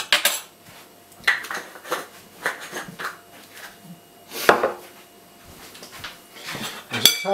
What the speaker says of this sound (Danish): det er nemmere med en gaffel lige at røre rundt her